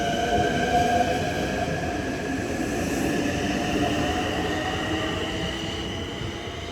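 A Long Island Rail Road train rolls past steadily and close by, its continuous rumble and rail noise holding at the same loudness throughout, with faint wheel squeal overhead and no voices.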